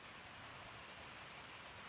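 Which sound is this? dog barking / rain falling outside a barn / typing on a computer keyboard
rain falling outside a barn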